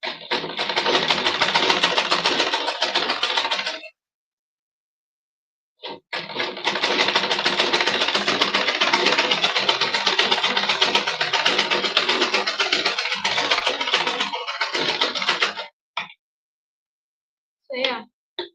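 A sewing machine runs in two long continuous bursts, stitching narrow bone channels into a cupped corset gown, with a short pause between runs and brief clicks near the end; loud and close, with no talking.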